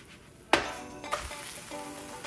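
A vegan omelette frying in an oiled pan, with a sharp clack as it is flipped followed by a softer knock and a steady low sizzle, close by.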